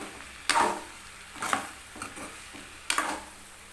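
Grated coconut sautés in a pan, stirred with a spoon: three or four distinct scraping knocks spaced about a second apart over a quiet, faint background.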